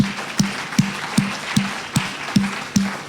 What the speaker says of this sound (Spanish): Dele un aplauso al Señor Jesús si lo ha buscado a usted.